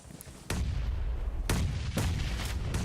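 Grenade blasts in the battle royale game PUBG Mobile, several heavy booming bursts at irregular intervals, loud and close over a constant rumbling background of battle.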